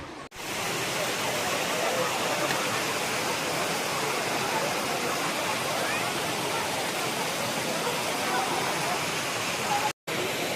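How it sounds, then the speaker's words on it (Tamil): A monsoon-season waterfall beside a temple in Chikkamagaluru, Karnataka, roars close and loud as an unbroken wash of rushing water that cuts out briefly near the end. "அது கோயிலை ஒட்டியே ஃபால்ஸ் இருக்குது."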